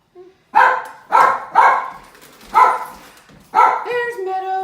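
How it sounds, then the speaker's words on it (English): A dog barks in a quick series of five loud, close, bright barks at a steady rhythm, the last one trailing into a higher whining yelp, in a home kitchen during food prep. "A little bit of bark now and then never hurt anybody."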